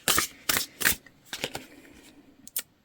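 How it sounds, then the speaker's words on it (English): Tarot cards being shuffled by hand: three crisp, loud riffling bursts in quick succession, followed by several softer, shorter shuffles, all close and without talk. "I shuffled these good too"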